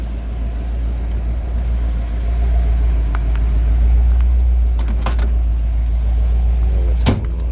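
A restored 1960 Chevrolet Impala drives along with a steady, low engine rumble throughout, joined by a few short knocks and a sharp clunk near the end.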